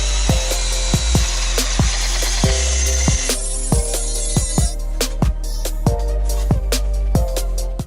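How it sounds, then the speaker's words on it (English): A power drill bores holes through a metal alarm-unit bracket for an NA Miata alarm horn install, loud and close, with a steady high whine broken by a rapid string of sharp clicks and knocks. "So those are the holes I'm going to drill."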